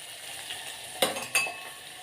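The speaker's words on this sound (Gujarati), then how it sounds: "જો ડુંગળી સરસ મજાની ચડી ગઈ છે." Onions frying in a pan hiss softly while a spoon stirs them, with two quick metallic clinks against the pan near the middle of the short span.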